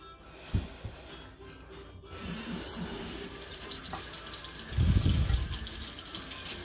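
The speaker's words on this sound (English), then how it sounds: "we're making sure the water is not running super heavy" Tap water runs gently into a kitchen sink, a soft, close splashing stream with a few louder bursts and brief knocks as a plate is handled.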